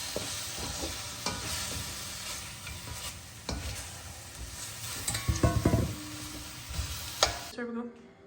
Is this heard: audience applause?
no